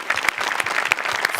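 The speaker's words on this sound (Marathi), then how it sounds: "जोरदार टाळ्या पुन्हा एकदा" An audience at a Marathi comedy show claps in a brief, dense burst of applause, loud and close, with no talk over it.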